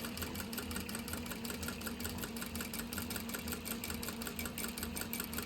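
A sewing machine runs steadily, stitching fabric along a quarter-inch seam line, a fast continuous mechanical whir and needle chatter heard up close without pause or talk.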